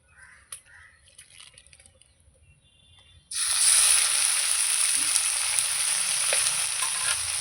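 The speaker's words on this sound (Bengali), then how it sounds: "তেল আমার গরম হয়ে গেছে চিকেনটা দিয়ে দেবো" Chicken pieces dropped into hot oil for chicken rolls, a sudden loud sizzle bursting in partway through and holding as steady, bright frying crackle after quiet kitchen sounds.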